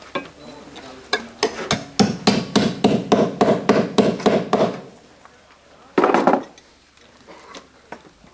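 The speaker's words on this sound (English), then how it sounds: "the remaining tab gets broken back over the nail heads to keep them from protruding through the standing seam. That gets hammered flat." A hand hammer beating a copper roof cleat tab flat over nail heads on a standing-seam roof: a quick string of about a dozen sharp, ringing metallic strikes, then a pause and one final blow.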